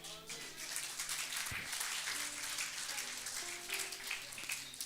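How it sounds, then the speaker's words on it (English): A congregation at a church service claps in dense, steady applause, with sustained tones from music or voices beneath it throughout. "Give a hand of applause to Jesus."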